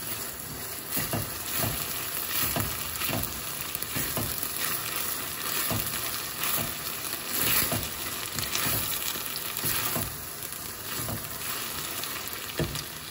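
Crushed garlic is stirred in a sizzling frying pan. A constant close crackle of frying runs under repeated soft scrapes of a spoon moving through the pan, and nobody speaks.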